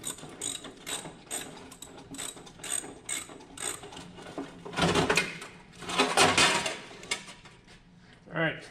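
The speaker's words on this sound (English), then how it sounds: "I'm just gonna loosen this off and pop the fender out." A ratchet wrench works loose the fender bolts on a 2002 Jeep Wrangler TJ, close rapid clicking in bursts with metallic clatter, growing louder midway and ending with a final clanking burst.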